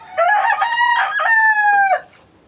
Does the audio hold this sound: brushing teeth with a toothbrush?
no